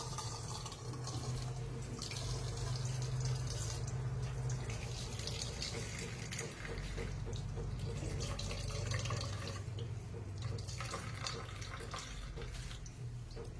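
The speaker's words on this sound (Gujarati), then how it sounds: "આવી રીતે બધું દાબી દાબી અને બધું જ પાણી નિતારી લેવાનું" Water being squeezed and strained out of a grated vegetable mix for homemade Manchurian, a steady wet trickling and splashing like running water into a sink, continuous and fairly close with no talk.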